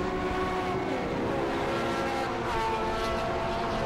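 Classic touring race cars from the pre-'93 and pre-'03 classes roar past at Silverstone, a loud, close, sustained engine drone with rising and falling pitch as the cars sweep by, no voices.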